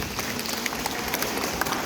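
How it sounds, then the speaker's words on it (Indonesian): Audience applause at an Indonesian Dharma talk, a steady dense wash of clapping from a seated crowd with scattered sharper claps, continuous and fairly loud throughout. "Tepuk tangan saya, tepuk tangan dulu."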